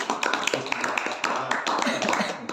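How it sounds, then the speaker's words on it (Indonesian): Applause from a small audience at a teacher training session, with scattered, uneven claps and taps close by, lasting a couple of seconds. "Tepuk tangan dulu deh buat Eka."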